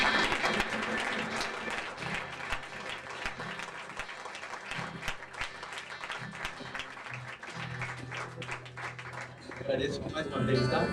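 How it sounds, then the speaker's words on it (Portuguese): A church congregation applauds, steady crowd clapping with a soft background tone underneath and some voices mixed in, swelling again near the end. "Você pode aplaudir o Senhor."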